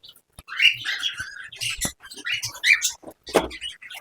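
Birds chirp inside an aviary, with bright, rapid calls in quick, uneven bursts close by and short pauses between them.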